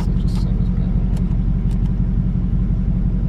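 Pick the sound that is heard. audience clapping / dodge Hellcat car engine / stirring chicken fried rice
dodge Hellcat car engine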